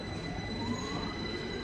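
A London Underground train runs steadily through a tunnel, a dense roar of wheels and rumble with a thin high squeal riding over it, loud and continuous from inside the carriage.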